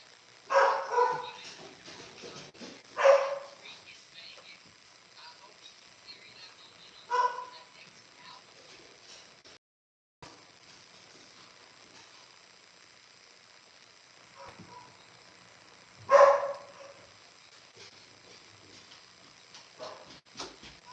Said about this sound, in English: So I think they hear Nicole, so that's why my dogs are barking